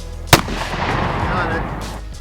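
A Smith & Wesson handgun fires a single sharp shot at a dirt bike engine outdoors, close and loud, followed by a rumbling reverberation that lingers under steady background noise.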